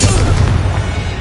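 A Confringo blasting spell exploding in Hogwarts Legacy, one short, heavy boom with a low rumbling body, close and loud, standing alone.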